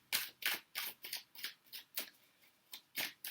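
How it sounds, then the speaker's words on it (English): Tarot cards are shuffled in a quick, regular run of crisp riffling bursts, about a dozen sharp papery flutters close to the mic in a quiet room. "Let's shuffle for some tarot cards here"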